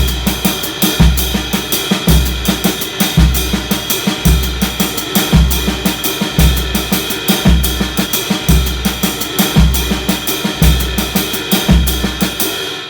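Drum set playing an Afro-Cuban 12/8 pattern with snare strokes on the second and third triplet notes: a steady, looping groove with a deep thump on every beat and lighter hits between, loud and close, with no talking.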